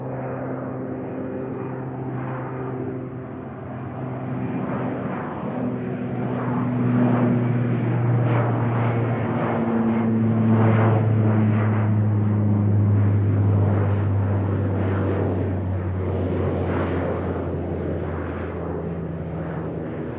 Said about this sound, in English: This is a rare one, the Conoco Dash 8.